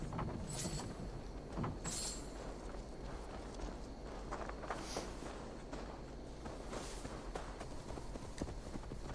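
Steady horse hooves clip-clopping on the ground while riding in Assassin's Creed Valhalla, a continuous trotting rhythm at moderate distance with faint ambient background.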